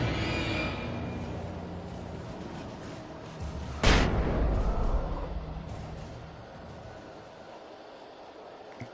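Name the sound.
flashbang grenade going off in the video game Alan Wake Remastered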